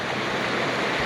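The Pemigewasset River flowing clear over rocks, a steady broadband rush of moving water, close and continuous without pause.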